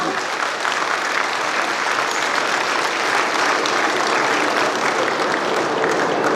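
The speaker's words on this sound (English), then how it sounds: "A loud round of applause, please." Sustained applause from an audience in a school auditorium at an inauguration event in New Delhi, a dense even roar of many hands clapping throughout, steady and fairly loud.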